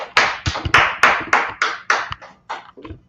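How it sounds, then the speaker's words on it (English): A room of people clapping for a class at an ISUPK gathering, about ten sharp, distinct group claps in a rough slowing rhythm, close and loud, with no talk. "Clap it up for the class."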